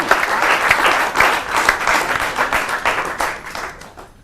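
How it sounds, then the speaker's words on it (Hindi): Loud audience applause at a Holi poetry gathering on a News 18 stage welcoming humorous poet Rasik Gupta, a dense, close burst of clapping that gradually tapers off toward the end. "एक बार जोरदार तालियों से स्वागत कीजिए कवि रसिक गुप्ता जी का"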